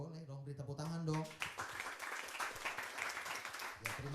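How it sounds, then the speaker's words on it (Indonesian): A church congregation claps for the GBI synod during a Sunday worship service, with the applause starting after a short spoken line and staying quiet and distant. "beri tepuk tangan dong"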